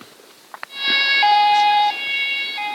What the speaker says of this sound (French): Ah, l'ambulance.